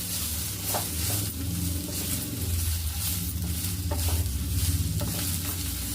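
Cumin seeds, about three spoonfuls, sizzle and fry in a pan for sambar, a steady crackling hiss with stirring scrapes throughout, close and continuous.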